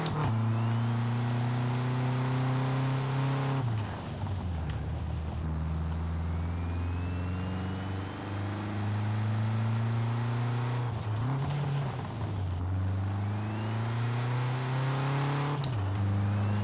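A Peugeot 205 Turbo 16 rally car engine in Forza Horizon 4 revs and climbs through gears, with sharp drops at each shift and whooshing turbo sounds, loud and continuous throughout.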